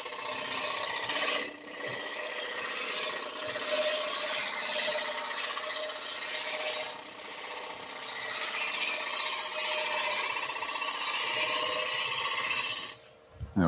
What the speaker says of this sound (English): Let's stop the lathe.